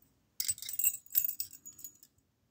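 Keys jangling against a warded padlock, a close metallic clinking and rattling that lasts about a second and a half before falling quiet.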